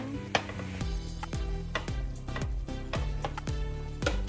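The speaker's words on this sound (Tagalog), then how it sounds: "we're going to add our onions" Chopped onions hitting a hot pan and sizzling while cooking pork estofado, with steady frying hiss and repeated sharp scrapes and taps of a utensil stirring against the pan at a regular rhythm.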